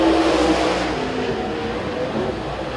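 A dirt late model race car roars around Cochran Motor Speedway in Southern All Stars qualifying, its engine a loud sustained drone holding steady revs throughout with no talk over it.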